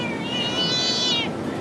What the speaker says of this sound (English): There's our friendly neighbor cat.